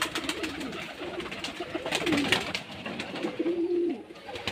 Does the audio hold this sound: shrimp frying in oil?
no